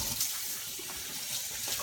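Warm water runs from a tap to sanitize winemaking equipment, a steady close hissing splash that goes on without a break over the brief stretch, with no talk.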